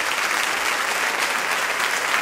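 Sustained applause rises from a large audience for a concert orchestra, a dense, loud, unbroken wash of many hands clapping together for the full stretch.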